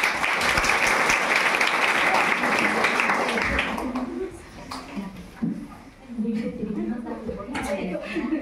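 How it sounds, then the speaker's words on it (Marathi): A group of girls at a hygiene program claps loudly in dense applause for about four seconds, then the clapping stops and a voice talks over quieter room sound. "छान, टाळ्या वाजवा"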